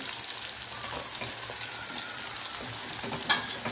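Sweet pumpkin frying in a pan gives off a steady moderate sizzle with occasional soft stirring sounds and one brief clink near the end, with no voices.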